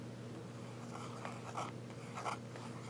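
An Opus 88 fountain pen with a broad German Jowo number 6 steel nib scratches softly across paper, producing faint, light strokes with a few slightly stronger swipes, close and quiet over a steady low hum.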